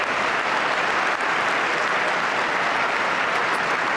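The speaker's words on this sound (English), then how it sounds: "She arrives with cheers and claps" Steady, dense cheering and applause fill the congressional chamber as the First Lady arrives for Trump's address, a continuous roar of many hands and voices with no pauses.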